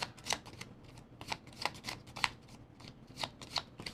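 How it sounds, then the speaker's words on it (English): Playing cards being shuffled for a Final Girl board game session, a series of crisp riffling bursts repeating roughly every half second, close and fairly quiet with no talking. "we're going to shuffle these the best we can"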